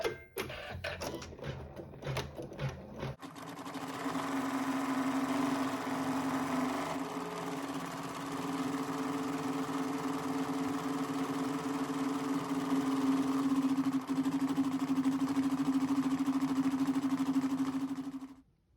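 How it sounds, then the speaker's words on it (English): An embroidery machine stitches numbers onto fabric pockets, starting after a few clicks and a brief pause, then running as a steady, loud mechanical whir with a rapid even needle rhythm for about fifteen seconds before stopping. "this step will sew the number embroidery on each of the pockets"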